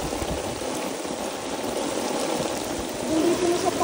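Deep floodwater flows through a flooded street in Okazaki City, a continuous rushing, gurgling wash with a slight swell near the end and no talking over it.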